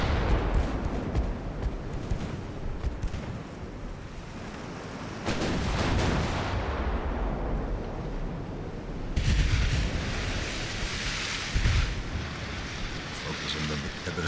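Naval artillery in Ultimate Admiral: Dreadnoughts, with Italian warships of 1890: heavy booming salvos roll over a constant low rumble of sea and engines, with a few louder blasts, while someone talks over it.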